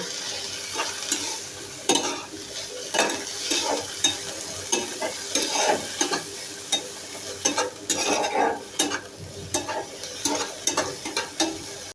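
Shrimp with turmeric and other spices is stirred and fried in a pan: a close sizzle broken by repeated scraping and clattering strokes of a utensil in an irregular rhythm, with no talking.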